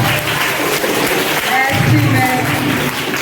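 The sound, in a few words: audience applauding the schoolteacher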